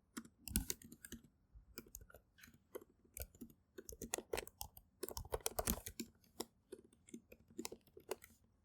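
Rapid, irregular clatter of keys on a computer keyboard as Java code is typed, a close, dry stream of clicks with brief pauses and no voice.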